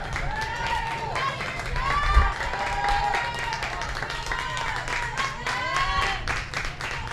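Baseball crowd from both the Woodbury and West Fargo sides cheering and clapping steadily at a high school game, a continuous roar with whistles and shouts, mixed with an announcer talking over it.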